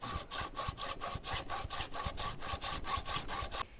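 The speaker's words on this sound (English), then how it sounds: "I'm going to cut my pipe. So this is just a regular hacksaw." A regular coarse-bladed hacksaw cuts through a pipe held in a vise. Even, rasping back-and-forth strokes repeat steadily at close range, then stop abruptly near the end.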